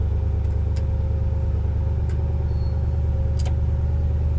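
A 1957 Pontiac Star Chief engine idles with a steady, low rumble, joined by a few faint clicks.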